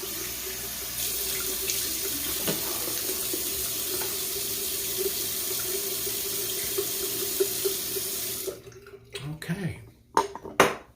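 A bathroom tap runs cold water in a steady, close rush for about eight seconds, then stops, leaving a few splashes and handling sounds during a shave with a German Merkur double edge safety razor.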